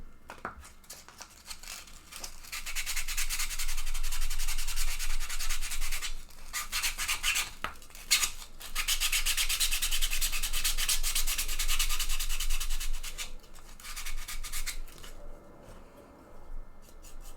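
Close hand sanding of a T-Rex mounted bust, a steady rasping rub that runs in long sustained strokes with brief pauses, fairly loud and alone without talk.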